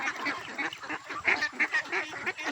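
Small ducks kept in a pen quack and honk repeatedly in busy, overlapping bursts, close by and fairly loud.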